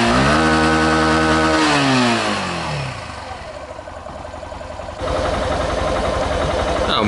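A Yamaha Fazer 150 motorcycle from 2015, with a burned stator winding, revs loudly near by, then the pitch drops as it settles into a quieter, rougher idle before the engine note rises again for the last couple of seconds.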